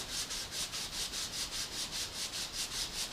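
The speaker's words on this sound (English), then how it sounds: "just trying to keep the edges nice and square as I file it, or not file it, but sand it" Sandpaper rubbing back and forth along the edges of a handmade jewelry piece, a steady, even scratching rhythm of about four strokes per second, close and fairly quiet with no talking.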